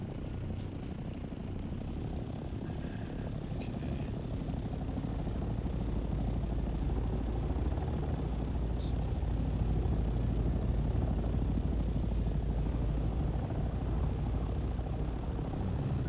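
A helicopter in Dune: Awakening lifting off, a steady loud rotor and engine roar that holds and swells slightly throughout, with no one talking.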